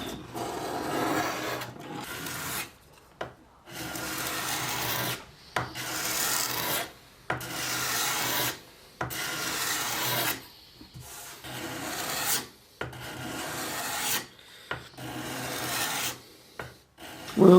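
A rasp shaves 2 to 3 millimeters from the squared shoulders of a pinkish, interlock-grained wooden vintage guitar neck in repeated long, steady strokes with brief pauses between, close and loud.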